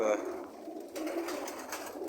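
Dark pigeons coo in soft, low, repeated calls close by, over steady background noise.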